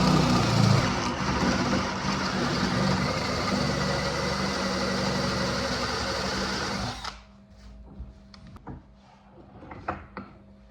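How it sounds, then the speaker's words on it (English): A power drill whirs steadily at high speed for about seven seconds drilling holes in wooden table legs, then cuts off, leaving faint knocks and small handling clicks. "it's time to drill the holes in the legs"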